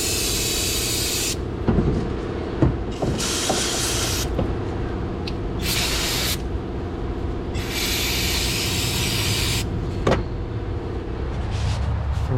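Water spray hisses in repeated bursts as foam cleaner is rinsed off a car battery and its surroundings, with a steady background hum and a few sharp clicks between the sprays.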